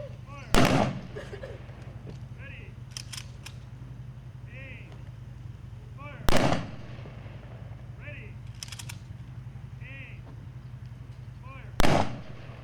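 A rifle team fires three ceremonial volleys at a Memorial Day ceremony, each a sharp, loud crack spaced about five to six seconds apart, with a low steady hum between the shots.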